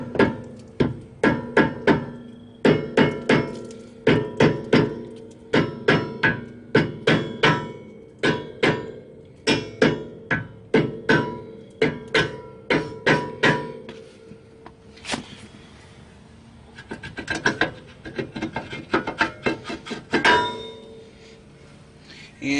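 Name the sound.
rubber mallet hitting a stuck brake rotor on a Nissan 350Z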